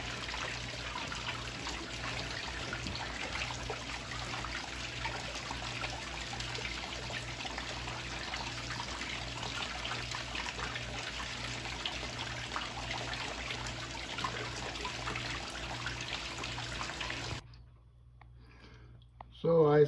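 Water sloshing and trickling in a gold pan as pay dirt is washed, a steady wet swishing with a faint rhythmic low pulse underneath, close and continuous until it drops away near the end.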